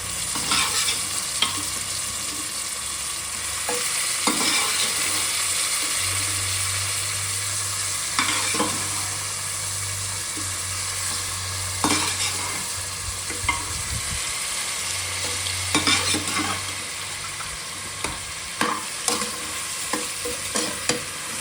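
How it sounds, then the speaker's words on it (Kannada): Mutton pieces frying in a tomato tempering, stirred steadily with repeated scrapes and clinks of the spoon over a constant close sizzle, with no talking. "ಈ ಒಗ್ಗರಣೆಗೆ ಮಟನ್ ಹಾಕ್ಕೊಳ್ಳೋಣ"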